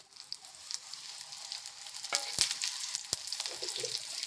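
Soft, steady sizzling of chillies and spices roasting in oil in a pan, with a few sharp clicks and scrapes, faint and close by.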